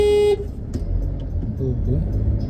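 A car horn blares in a short loud honk right at the start, then cuts off, leaving road noise from a car and people talking nearby.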